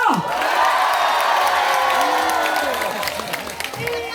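An audience at a Korean janggu drumming contest claps and cheers in a thick, steady wash, whoops and voices woven through, loud at first and easing slightly toward the end.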